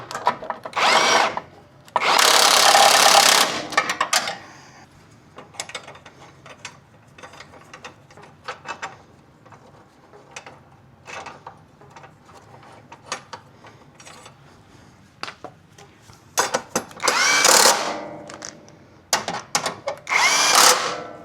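A power tool drives suspension bolts tight on a 2015 Subaru Forester in loud, separate bursts, with ratcheting clicks and mechanical rattling in the gaps between them, up close and with no voices.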